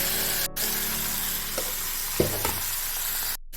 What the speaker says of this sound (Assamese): এতিয়া দালি যিখিনি ধুই থৈছিলোঁ এইখিনি ঢালি দিছোঁ